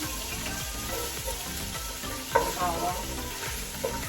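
Ginger and garlic sauté in a hot pan, sizzling steadily up close, with soft scraping stir strokes and a couple of sharper clinks.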